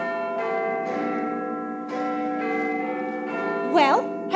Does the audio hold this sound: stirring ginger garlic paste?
no